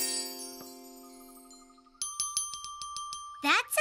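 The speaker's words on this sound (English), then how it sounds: "That's a nice little bell." A small cartoon bell rings once with a long, clear, fading tone, then sounds a quick run of bright repeated dings before a voice starts at the end.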